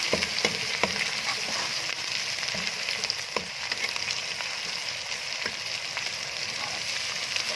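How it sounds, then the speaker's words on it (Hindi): Garlic ginger paste frying with browned onions in a pan for a turnip chicken gravy: a constant, close sizzle and crackle with occasional faint pops and stirring scrapes, steady throughout and heard alone without talk. "अब हम इसमें डालेंगे लहसुन अदरक का पेस्ट और चंद सेकेंड तक इसको फ्राई करेंगे"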